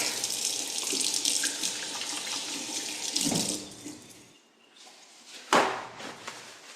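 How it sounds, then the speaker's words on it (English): Tap water runs steadily into a sink as hands are washed, splashing for several seconds before the flow stops, followed by a brief final splash. "let me wash my hands real quick"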